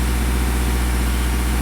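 A 4G63 engine fitted in a Mini Cooper runs steadily at raised RPM, producing a loud, continuous, low-pitched drone close by with no break.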